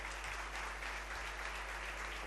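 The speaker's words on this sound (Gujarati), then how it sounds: "બધા તાળીઓથી વધાવો આ વાતને" Steady applause from an audience at the Vadtal Chaitri Samaiyo religious gathering, a continuous even wash of clapping with a low hum underneath.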